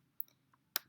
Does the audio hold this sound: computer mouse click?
yes